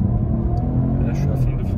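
A Peugeot 308 with the 130 petrol engine gently accelerates, its engine droning steadily and loudly from inside the cabin, with a rising tone and speech over it.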